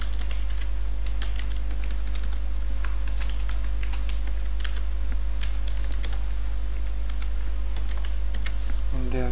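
Fingers type on a computer keyboard while coding, giving steady, close clicks in uneven bursts over a constant low hum.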